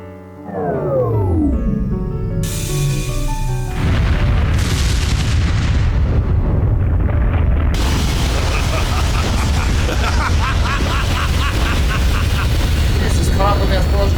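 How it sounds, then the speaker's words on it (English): Explosions in the video game Trails Through Daybreak: a descending whoosh gives way to a heavy, sustained booming roar with crackling bursts, loud and dense throughout, with voices mixed in. "He's just caught with the explosion himself."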